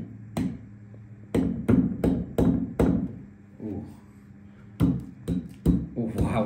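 A chisel strikes a toy dinosaur egg in a series of sharp, close knocks and cracks, some clustered in quick runs with pauses between, while a voice talks in the gaps.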